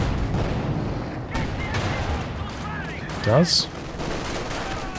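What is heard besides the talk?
anti-tank gunfire in the video game Company of Heroes 2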